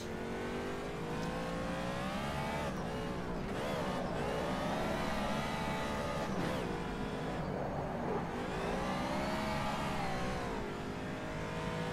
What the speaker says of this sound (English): It's still bogging down a bit, the engine